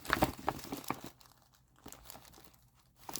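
Small plastic bags holding die cuts crinkle and rustle close by, a busy burst of crackling handling that fades to quiet before a brief crinkle returns.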